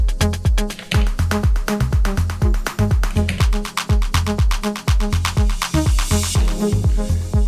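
Electronic drum transition fill tricks from a hybrid live rig of Ableton, Push 2 and Digitone: a steady, driving kick pattern with dense hi-hats and stuttering repeats, building toward brighter noise near the end, loud and with no talking.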